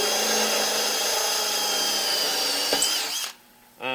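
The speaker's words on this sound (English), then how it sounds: "Just put it in the drill, and you put it right in the center of the hole" A power drill spins a spot weld cutter into sheet metal on a car seat mount plate, a steady loud whine with grinding that runs for about three seconds before cutting off abruptly, followed by a brief restart.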